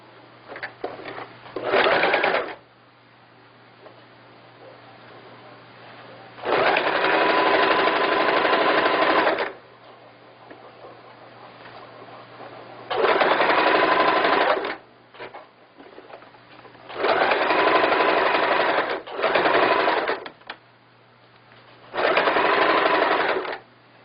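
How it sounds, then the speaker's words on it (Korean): A sewing machine stitches a floral skirt to its waistband in five bursts of rapid whirring separated by quiet pauses, close and clear, with no talking. "치마와 허리단을 합복 박음질 하겠습니다."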